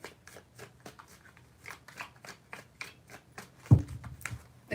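Tarot cards shuffled by hand in a run of quick, rhythmic riffling bursts, close and fairly soft, with one louder thump near the end.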